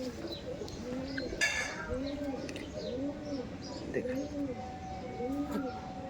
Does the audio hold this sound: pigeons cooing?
yes